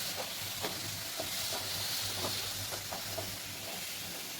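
Puris fry in hot oil with a steady, fairly faint sizzle and hiss, broken by a few soft stirring and scraping touches, heard close with no talking.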